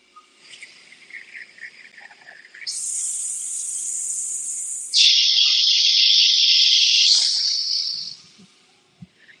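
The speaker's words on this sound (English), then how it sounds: "We're blowing for 2 seconds, we're hissing for 2 seconds, we're softly shushing for 2 seconds, and we're loudly shushing for 2 seconds." A breathing-exercise exhale performed by voice in four roughly two-second stages: a breathy blow, a sharper hiss, a soft shush, then a loud, strong shush, each a steady airy noise at close range with no talking.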